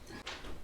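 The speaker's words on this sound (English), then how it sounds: "Shut the door." A door is pushed shut indoors with a short, soft thud and brief whoosh, heard once at close range against a quiet room.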